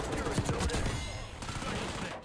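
A SAUG submachine gun in Black Ops 6 rattles off a rapid burst of close shots that thins out and continues more loosely over a dense game background.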